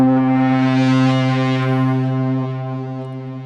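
A synthesizer key played into a Liven Mega Synthesis sampler gives a steady sustained tone with rich stacked harmonics, loud and close, slowly fading toward the end.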